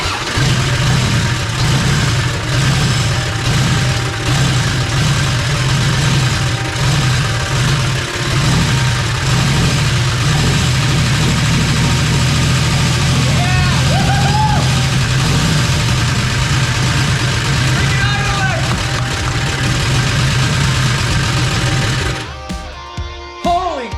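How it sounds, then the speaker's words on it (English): A Toyota FJ45 Land Cruiser in very rough condition, fitted with a Weber carburetor, cranks and settles into a steady, loud, rumbling idle that runs for about twenty seconds before cutting off abruptly. "let's go ahead and turn the key and see if she makes some noise and maybe idles or something."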